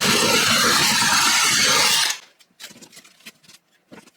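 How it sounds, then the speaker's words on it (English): A loud, continuous hole-saw drilling whir grinds through drywall for about two seconds, then cuts off, leaving scattered light clicks and taps. "take the hole saw first, and we're going to drill this hole bigger"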